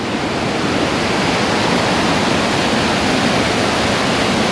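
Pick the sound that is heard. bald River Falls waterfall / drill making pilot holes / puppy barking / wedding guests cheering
bald River Falls waterfall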